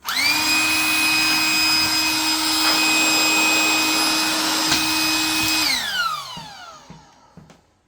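A Ryobi cordless vacuum runs close with a steady high-pitched whine over a workbench, then winds down and falls silent near the end.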